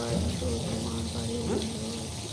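Water runs steadily from a tap into a sink while items are washed, a continuous gushing hiss close by, with someone talking over it.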